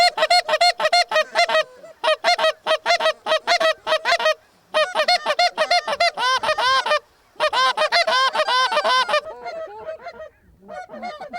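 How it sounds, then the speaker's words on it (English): Small Canada geese honk loudly and close in rapid, overlapping bursts, a dense flock clamoring in rhythmic volleys broken by short pauses, ending with a few scattered calls. "Chad, Steven, and Keith haven't gotten used to these small Canadas. They're about half the size of the geese at home"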